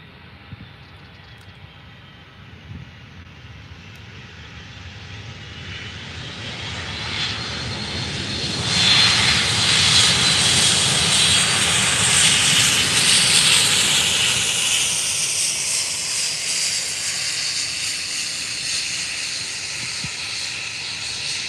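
A United Airlines Boeing 757 at Faro Airport roars steadily, building to a loud broadband jet rush with a high whine midway, then holding a sustained powerful drone with no talk.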